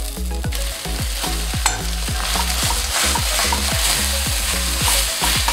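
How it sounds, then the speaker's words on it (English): Two pounds of breakfast sausage sautés over softened onions in a pan, producing a loud continuous sizzle broken by a rapid, regular series of scraping stirring strokes. "I am going to add in my sausage now"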